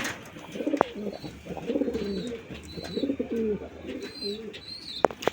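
Pigeons coo in soft, repeated rolling phrases close by, with a few sharp chirps and clicks scattered over a quiet background; no one speaks.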